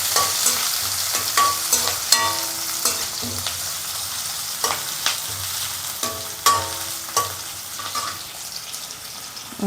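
Chopped onions fry in a pan for vegetable upma, a constant sizzle broken by repeated scraping and clinking stirring strokes of a utensil, close and fairly loud.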